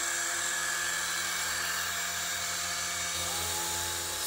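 A Saima S-109 remote control military helicopter flies nearby, its small electric rotor and motor giving a steady, high-pitched whine that holds on without a break, with no talking over it.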